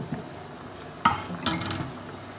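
Battered pieces coated in thick besan batter drop into hot oil for a double fry, giving a soft steady sizzle with a sharper burst as each piece goes in, close up in a home kitchen.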